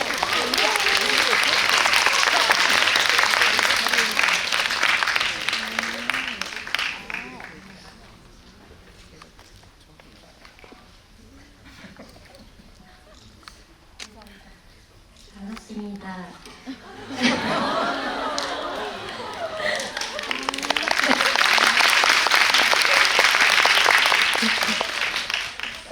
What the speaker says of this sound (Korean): 네, 큰 박수로 맞아주세요.